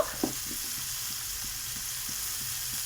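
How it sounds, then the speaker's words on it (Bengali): A spice paste with grated ginger sizzles steadily in a pan for a cabbage curry while it is stirred, with soft scraping ticks over a constant close frying hiss. "মশলাটা নেড়ে ছেড়ে নেব।"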